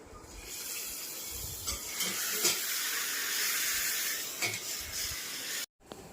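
A tempering of ghee and ajwain for Kathiyawadi kadhi sizzles in a broad, steamy hiss that swells in a few louder bursts, then cuts off abruptly near the end.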